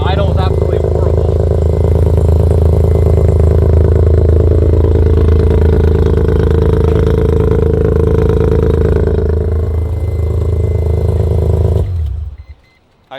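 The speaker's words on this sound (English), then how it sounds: "It's running horribly, but it started at least. And the idle is absolutely horrible." A Mazda RX-7 rotary engine idles roughly and loudly up close, a low uneven rumble that runs continuously before dropping away at the end.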